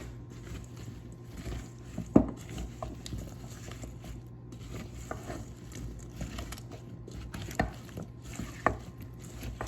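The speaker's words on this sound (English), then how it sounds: "then we're gonna mix it up with the spoon" Red-skinned potatoes are tossed with olive oil using a spoon, giving soft, sporadic scrapes and a few sharper knocks against the bowl over a steady low background hum.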